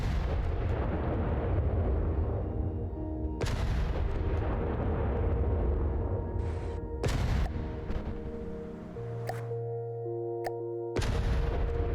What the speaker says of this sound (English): let me just showcase this shooting first, so you can just appreciate how cool it is